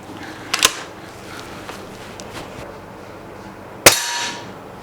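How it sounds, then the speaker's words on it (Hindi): Two sharp cracks from a light brown camo air rifle firing pellets at a target, one near the start and a louder one later, each a crisp close snap with a faint metallic ring in a quiet room. "एक और पैलेट फायर कर लेते हैं,"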